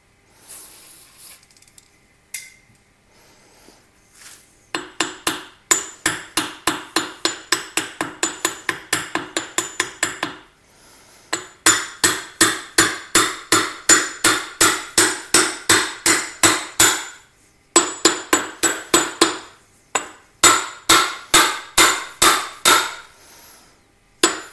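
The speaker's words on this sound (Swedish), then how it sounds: "Så tar vi en stor hylsa och så kan vi slå på mitten istället." Repeated hammer blows on a large socket driving in the rear output seal of a Volvo M41 gearbox, a steady run of sharp metallic strikes in several bursts, loud and close, with short pauses between groups.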